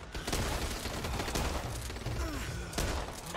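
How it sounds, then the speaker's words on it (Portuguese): Continuous dense gunfire in the video game Back 4 Blood, a sustained clattering barrage of shots with a few louder bursts near the end, heard close up without talk. "os caras ficam atirando na gente"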